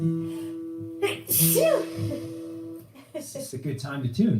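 A loud sneeze bursts out early, followed by a person speaking, with a steady tonal hum running underneath during the first part.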